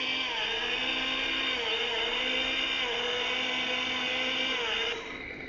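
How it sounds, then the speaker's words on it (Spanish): A STIHL toy chainsaw runs with its chain moving, giving a steady, loud electronic motor whine with a high buzzing tone that holds evenly for about five seconds, then drops in level as it winds down. "Aquí encendemos, cambiamos el volumen, encendemos como si fuera una motosierra,"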